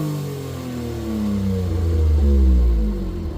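A Honda Beat's small engine revs in a low, steady drone, climbing gently in pitch and loudness before easing off, with clatter and no talk.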